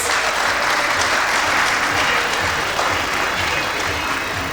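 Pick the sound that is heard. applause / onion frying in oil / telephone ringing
applause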